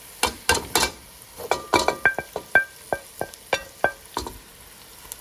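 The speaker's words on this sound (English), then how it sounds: "the potatoes are a bit soft now, so I'm going to add the onions in, and I'm also going to add a few of the spices in" Onions and spices tipped into a pan of softened potatoes for a Punjabi aloo gobi, giving a string of sharp sizzling crackles and light clinks, close and fairly loud with no talking.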